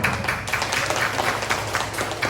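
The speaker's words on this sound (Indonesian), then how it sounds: "Tepuk tangan dong" Audience applause at a psychoeducation seminar on self-acceptance, a continuous smattering of hand claps with a low steady hum underneath, no voices over it.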